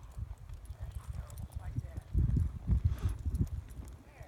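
A horse at cutting practice walks with steady clip-clop hoofbeats, moderately close, while people talk over the sound.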